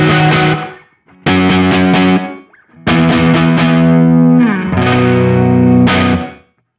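Several loud distorted electric guitar chords ring out through a Sonicake reverb pedal on its room setting, each sustained then cut, with a short room-like reverb tail.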